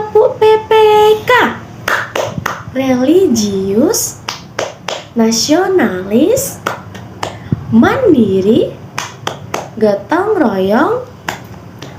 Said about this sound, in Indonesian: Selanjutnya kita akan menyanyikan atau tepuk PPK.